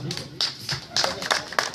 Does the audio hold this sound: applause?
yes